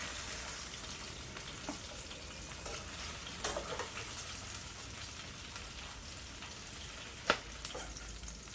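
Hot oil in a pan on a stove crackles and sizzles steadily during tempering, a close, continuous frying hiss broken by a few sharper pops.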